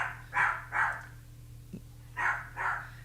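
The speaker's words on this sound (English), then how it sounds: "the little dog is just such a pest" A small dog in the Palia video game gives four sharp, yappy barks in two pairs separated by a short pause, moderately close over a low steady hum, with no talking.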